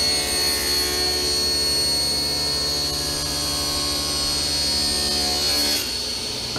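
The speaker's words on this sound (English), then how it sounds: "since I'm going to be cutting it down on the bandsaw, it'll be just fine." Bandsaw cutting thick 8/4 birch board, a steady whining motor drone with a continuous sawing hiss that holds evenly throughout, close and moderately loud, with a brief change near the end.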